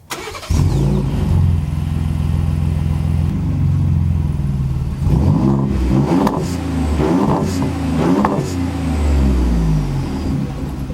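Truck engine cranks and catches after a push-button start, then settles into a steady idle before several sharp revs rise and fall, loud and close with no talking.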